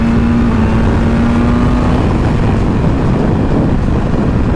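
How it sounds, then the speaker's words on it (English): Loud wind buffets the microphone in a continuous low rumble, with a 2024 BMW M1000R Competition motorcycle engine droning underneath and a brief tonal whine early on. "it's super windy out today too"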